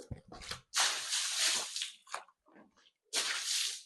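Water poured by hand in bursts onto a poultry house floor during disinfection, splashing loudly in three main pours with short dribbles between them.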